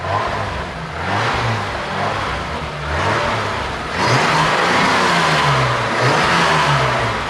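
Engine of a 1987 BMW 325 E30 revving repeatedly in rising and falling surges, close and loud, climbing higher toward the end, with no talking over it.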